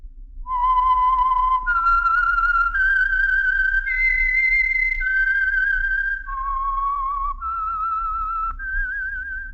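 A lone whistler carries a slow, clear melody of about eight sustained notes, the signature tune of the Signal Oil radio program The Whistler, over a faint low hum.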